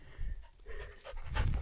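A dog panting in a snowy winter camp during a blizzard, quick breathy huffs close to the microphone, rising and falling in bursts over a short stretch with no talking.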